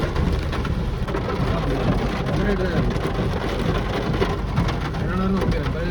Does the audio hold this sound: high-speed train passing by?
no